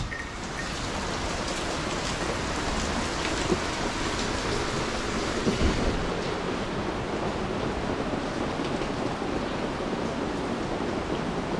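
Heavy rain pouring during a thunderstorm in Thailand, a dense, steady hiss of downpour on surfaces that stays loud and unbroken throughout, with no voices.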